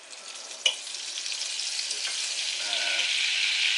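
Butter sizzles in a pan with garlic and bacon, a steady bright hiss that swells slightly, with a sharp utensil clank near the start.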